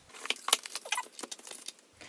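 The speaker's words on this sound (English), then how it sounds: "Let's open the box." A Viking Raiders board game box is opened close by, with quick cardboard rustles, scrapes and small clattering clicks scattered through two seconds and no talk.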